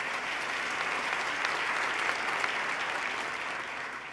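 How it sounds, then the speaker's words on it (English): A large audience at a State of the State address claps steadily for a few seconds, a dense even wash of applause without cheers. "Let's give him another round of applause, Mr. John Mack."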